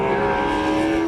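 Steady, droning engine tone from a twin-turbo Ford Mustang GT race car with a sequential gearbox, held at a constant pitch close by, with no talk over it.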